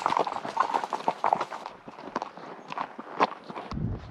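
Hooves of a young horse walking over rough canyon ground during a cattle drive, a steady close clip-clop rhythm with a faint low rumble near the end.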